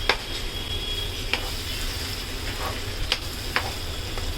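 Eggplant sizzles steadily while being sautéed in a pan for a spicy masala dish, a continuous frying hiss broken by a few soft stirring clicks, with no voices.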